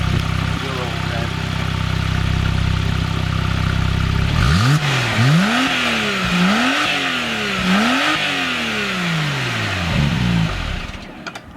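A 2019 Porsche 911 Carrera (991.2) rear engine idles with a low, even burble, then revs sharply several times in quick succession, each rise and fall loud and close.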